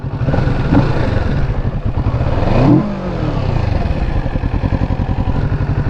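A Kawasaki Ninja 650 motorcycle engine revs sharply, the pitch rising and falling in a quick blip before settling back to a loud, rough, steady rumble close by.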